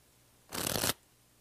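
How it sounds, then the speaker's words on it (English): A deck of playing cards riffle shuffled in the hands, a quick close burst of fluttering card clicks lasting under half a second against near silence. "And that's the in the hands riffle shuffle."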